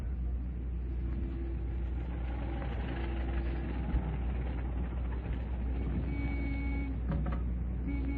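A taxi engine idles in a street scene, a soft, low, steady rumble heard faintly and alone, with a couple of small knocks and a light squeak toward the end.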